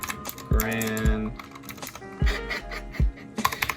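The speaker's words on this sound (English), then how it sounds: "You're about to see the fastest typer here." Fast typing on an RK61 60% mechanical keyboard, close up, with dense bursts of crisp key clicks and heavier thumps broken by short pauses.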